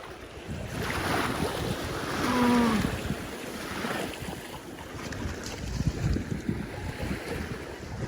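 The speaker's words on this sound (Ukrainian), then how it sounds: "Це ще й не бушуюче, це таке спокійне море." Steady wash of sea water and wind at close range, gentle and continuous, with a brief tonal squeak partway through.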